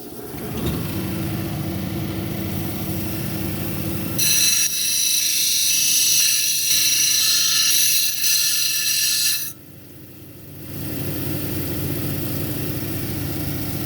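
A lapidary grit wheel hums steadily, then an orbicular jasper cabochon is pressed against it for about five seconds of loud, high grinding whine before the motor spins on alone.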